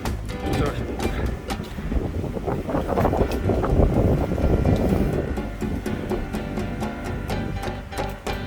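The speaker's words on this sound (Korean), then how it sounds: "바람이 많이 불어서 땀을 식혀주기는 하지만" Strong wind gusts roar and buffet continuously against the microphone high on Seoraksan's Dinosaur Ridge, loud and turbulent with no pause.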